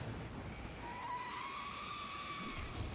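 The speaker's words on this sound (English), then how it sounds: "there's an enemy that scares the living daylights out of me. We'll hear the scream very shortly." An enemy in the FBC: Firebreak video game lets out a rising, wavering scream that stretches for a couple of seconds over a steady rumble of background noise.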